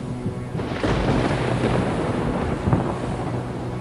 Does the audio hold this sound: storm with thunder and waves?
yes